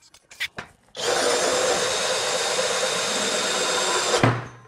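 A Skil 3080 screwdriver drills a hole in a wooden beam, a few sharp knocks before a steady, loud whirring grind that holds for about three seconds and then stops abruptly.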